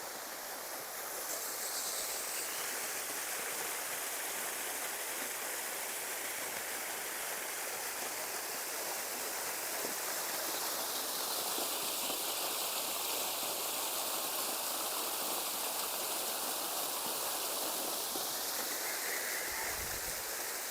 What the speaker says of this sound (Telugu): ఇక్కడ కూడా ఒక వాటర్ ఫౌంటైన్ అయితే ఉంది